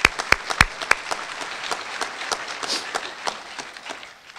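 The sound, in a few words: applause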